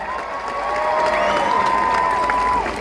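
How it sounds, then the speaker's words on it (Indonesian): A large crowd at a Bali community program launch applauds and cheers for university students, a loud, sustained roar of clapping and shouts with tonal whistle-like sounds running through it. "Tepuk tangan untuk adik-adik mahasiswa."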